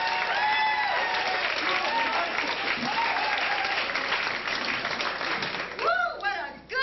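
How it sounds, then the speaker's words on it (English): An audience at the Improv comedy club in Hollywood gives a comedian full, sustained applause with scattered cheers, fading slightly before a voice starts talking near the end. "Let's have a big round of applause"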